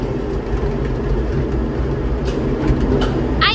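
Steady low rumble and rattle of the Gateway Arch tram car riding down inside the arch in St. Louis, Missouri, a continuous close mechanical drone with a few faint higher squeaks near the end.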